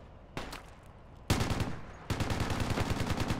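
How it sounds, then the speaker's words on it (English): Gunfire in the military shooter Project Reality (Battlefield 2 mod) on the Muttrah City map: dense, rapid automatic bursts that start sparse, then swell into sustained loud volleys, with no talking. "Oh yeah, we're taking fire."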